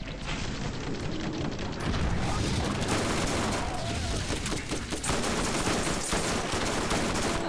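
A multi-shot pistol in Borderlands fires continuously in dense, loud, close bursts, blending into a sustained roar of gunfire throughout.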